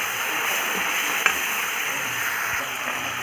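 Fish curry being stirred in a pan while it cooks, a steady sizzling bubble with soft stirring scrapes and one brief clink, close by and with no voices.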